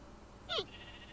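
A single short sheep bleat from a Minecraft sheep, fairly close and clear against a quiet game backdrop.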